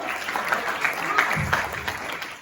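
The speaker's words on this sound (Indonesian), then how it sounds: "aplaus buat Anda semuanya" Audience at an Indonesian talk on millennials, Gen Z and social media breaks into brief, dense applause, a steady wash of clapping lasting a couple of seconds.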